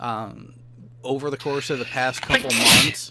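A single quick sneeze bursts out near the end, just after someone talks in an online chat.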